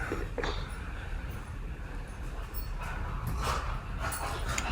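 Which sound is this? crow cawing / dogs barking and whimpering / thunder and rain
dogs barking and whimpering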